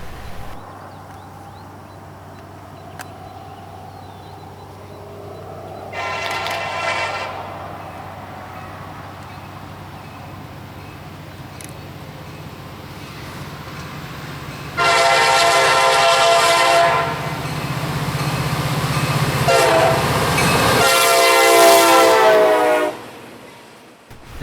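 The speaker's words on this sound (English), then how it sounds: "the southbound Okeechobee-bound ballast train, led by 8641, which is a boxcar logo SD50-2" A southbound CSX ballast train bound for Okeechobee, led by boxcar-logo SD50-2 number 8641, sounds its horn in several loud blasts over a steady low engine rumble, the horn sections rising and falling across the pass.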